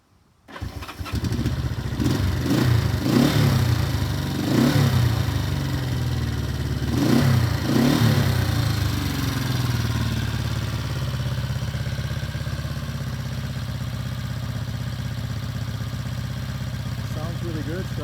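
A 1971 Honda CL350 motorcycle, freshly restored, starts up and revs several times in close succession, then settles into a steady idle that runs on to the end, with talk over it.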